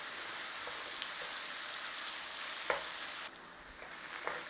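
Onions fry in a pan for classic British onion gravy, giving a soft, steady sizzle with occasional faint crackles and stirring clicks, alone without talk.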